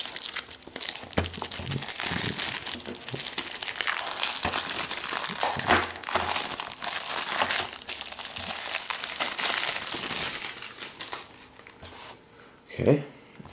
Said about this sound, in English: let's rip this thing open